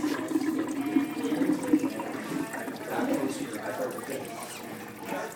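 A liquid solution being poured out after a reactivity test on nails, a steady close gurgling splash of running liquid lasting several seconds without pause, with faint background voices underneath.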